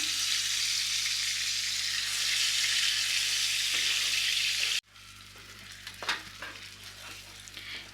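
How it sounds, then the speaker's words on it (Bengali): Spice paste frying in hot oil with prawns, a loud steady sizzle that drops to a quieter crackle partway through, with scraping stirs and a few sharp spoon knocks near the end. "এই পেস্টটাকে আমি তেলের সঙ্গে ভালো করে মিশিয়ে দিয়ে ভাজবো"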